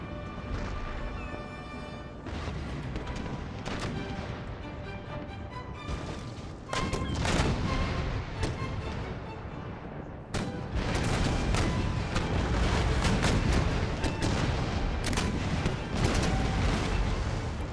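Heavy naval cannon fire from warships in an Empire: Total War video game battle, deep booming volleys that grow denser and louder toward the end, layered over a rumbling, ringing background.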